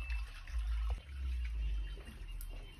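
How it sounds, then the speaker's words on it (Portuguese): Water drains off pre-cooked mozzarella cheese curd, a low soft gurgling trickle that swells and eases, faint and close with no voices. "Depois de pré-cozida, deixa escorrer."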